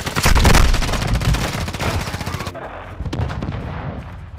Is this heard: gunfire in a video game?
yes